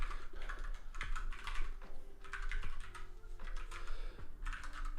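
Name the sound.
typing on a new computer keyboard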